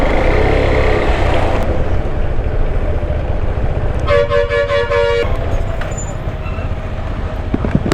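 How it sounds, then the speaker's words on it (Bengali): Busy traffic on a rainy Himachal mountain road, heading toward Chitkul, rumbles steadily while a vehicle horn sounds one long, clear toot partway through. "ও, এখানেও আবার ট্রাফিক।"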